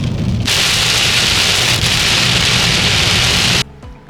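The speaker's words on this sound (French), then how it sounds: "on entend encore un peu d'orage parfois" A thunderstorm on a road trip through US national parks near the Grand Canyon brings loud, steady heavy rain hissing close by, with rumbling underneath, until it cuts off abruptly near the end.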